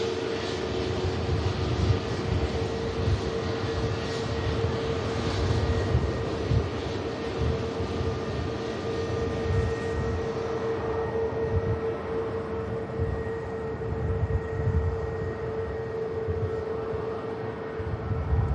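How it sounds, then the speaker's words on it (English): An EasyJet airliner taxis past at Manchester Airport, its engines a sustained, fairly near roar with a steady tonal whine, unbroken and without speech for the whole stretch. "EasyJet taxiing past us here is heading to Rome as well."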